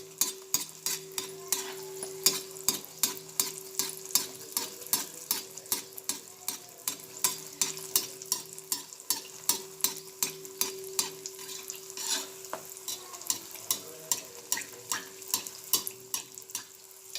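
Sakroli, a sweet Konkani dish, cooking in hot oil while oil is splashed over it, with a steady background hiss and a long run of quick regular scraping or splashing ticks close by.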